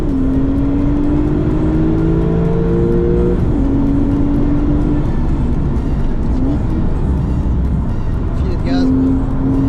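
A Porsche or KTM X-Bow race car on a trackday circuit, engine droning and shifting pitch as it accelerates and lifts off, with a coaching voice speaking over it.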